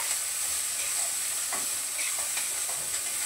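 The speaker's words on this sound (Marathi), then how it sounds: "एकदम वरच्यावर नुसते असे थोडंसं फक्त परतायची तेलामध्ये" Chopped onion and tomato sauté lightly in hot oil for a chickpea-and-capsicum curry, giving a steady, close, soft sizzle with a few faint stirring scrapes and no voices.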